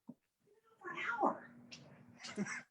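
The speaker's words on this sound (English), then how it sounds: "Was that a cat? Yeah, I got a little cat over here, a little Mancoon" A Maine Coon cat meows near the microphone in a drawn-out, wavering call, with a brief sound just before and a person talking over part of it.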